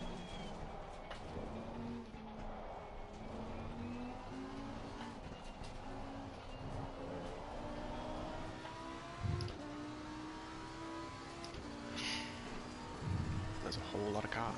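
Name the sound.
race cars at Oulton Park in a racing video game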